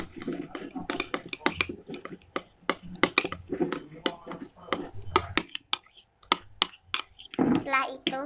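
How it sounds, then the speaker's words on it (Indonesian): Homemade slime mixture stirred in a bowl, giving repeated sharp clinks and scrapes of a utensil against the bowl, interspersed with someone talking nearby. "Aduk sampai merata."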